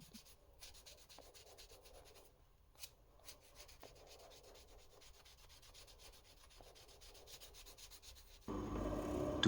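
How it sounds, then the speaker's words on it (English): Sandpaper is rubbed over a carved wooden crankbait lure body in quiet, close scratchy strokes. Near the end, a much louder, steady broadband noise takes over. "here I'm using sandpaper to get everything smooth"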